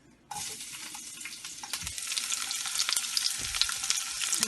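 Onions start frying in a pan on medium heat for a sauce, a sudden sizzle that builds into steady crackling with occasional stirring clinks.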